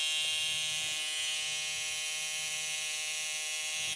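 A car's key-left-in-ignition warning buzzer sounds as a steady, high, harsh electronic tone, continuous and unbroken for several seconds with no talk over it.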